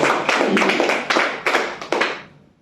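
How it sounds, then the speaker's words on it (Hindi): Loud audience applause at a motivational business gathering, a dense wash of many hands clapping with a few sharper bursts, tapering off near the end. "डॉक्टर लिम जोरदार तालियां चाहिए"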